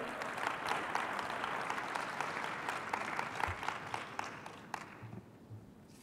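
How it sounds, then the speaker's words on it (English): An audience at an agriculture conference plenary session applauds a speaker coming up, a sustained wash of many hands clapping that thins and fades away near the end. "Let's give him a round of applause as he comes up."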